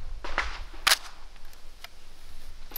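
A PTR rifle being loaded: a few sharp metallic clicks and snaps, one louder clack near the middle, with quieter handling noises around them and no speech.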